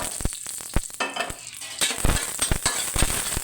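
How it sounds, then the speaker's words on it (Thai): Roasted chillies frying in a hot pan for a Thai squid basil stir-fry, a steady close sizzle broken by repeated sharp scrapes and taps of a spatula stirring against the pan. "เราจะใส่พริกคั่วคั่วก่อนนะครับ"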